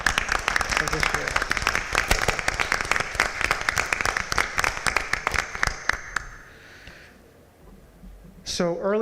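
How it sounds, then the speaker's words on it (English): An audience at a school board of education meeting claps for retiring school staff. The dense, steady applause lasts about six seconds, then fades to quiet, and a voice begins near the end. "a big round of applause first off for the retirees of this year"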